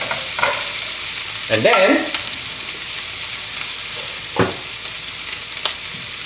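Pork and vegetables stir-frying with gochujang in a pan: a soft continuous sizzle with a few scraping stirs and clatters of utensil on pan, and a voice briefly speaking.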